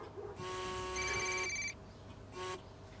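A telephone rings indoors with a call from the hospital: two electronic ring bursts, the first long and the second short, with a pause between them and faint room sound around.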